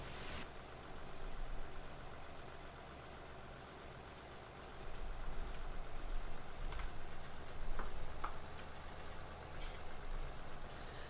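A Farming Simulator 17 tractor pulling a Krone Ultima CF 155 XC baler, its engine holding a steady low drone, with a quiet mechanical hum that swells slightly midway and carries on alone without talk.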